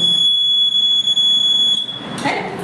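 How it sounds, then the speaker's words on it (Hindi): A sealing machine's buzzer gives a steady, piercing electronic tone when its button is pressed, holding loud for almost two seconds before cutting off, followed by a brief clatter. "अभी जैसे हम ये प्रेस करेंगे तो आवाज़ आएगा, बजर आएगा"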